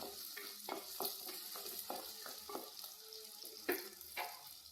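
Masala powder is stirred into softened onions frying in a pan, with a steady sizzle beneath repeated close scraping strokes of the spoon.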